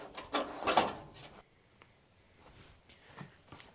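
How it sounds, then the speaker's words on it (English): The door of a neglected old 1929 Ford AA tow truck is opened: a short, quiet mechanical scrape and clunk lasting about a second, then a few faint knocks and creaks in near silence. "Let's open the door."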